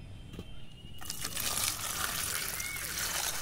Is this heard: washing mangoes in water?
yes